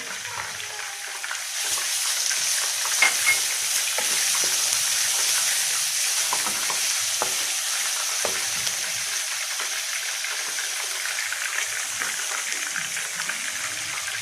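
Ginger paste hisses and crackles in hot oil in a pan while being stirred, a steady close frying sound with intermittent utensil scrapes, for a fish curry; no one speaks.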